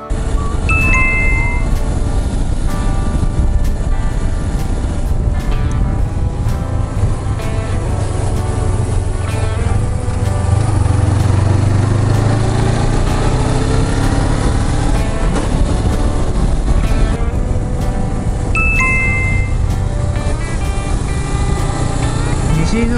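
A Suzuki GSR250F motorcycle runs continuously while being ridden, its engine drone mixed with heavy wind rush and shifting pitch as it speeds up and slows.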